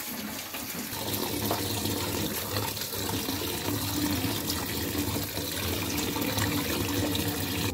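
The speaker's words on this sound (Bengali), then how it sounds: "আমি শাকটা ধুয়ে নিব এখন।" Malabar spinach greens washed under a running tap: a steady, loud, full rush of water with splashing that continues unbroken from start to end, with no voices.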